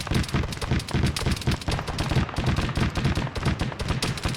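Sustained suppressive machine gun fire in Arma 3, a rapid, loud, unbroken stream of shots with a rough rhythmic rattle and no talking.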